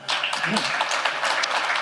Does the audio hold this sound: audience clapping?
yes